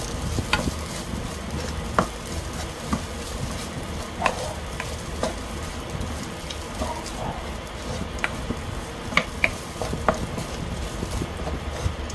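A spatula stirs and mixes egg and ham in a sizzling frying pan for a Filipino breakfast, with steady frying hiss and regular scraping taps of utensil against pan, close up and without talk.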